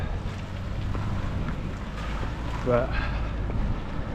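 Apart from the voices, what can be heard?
strong wind on microphone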